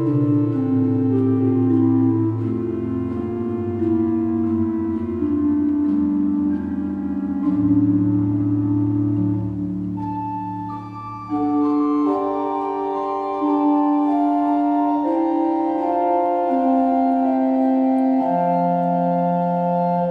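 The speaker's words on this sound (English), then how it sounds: "there is flauto minor also, the smaller. The larger is of 8-foot level, and the smaller is of 4-foot level." Flauto minor stop, 8-foot and 4-foot, on the largest pipe organ in Lithuania: soft, sustained flute-like notes in a slow melody over held lower tones, steady and gentle throughout with a brief dip midway.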